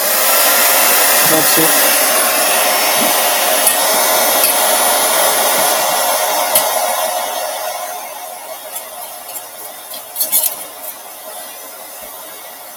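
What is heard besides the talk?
blow dryer switching between hot and cold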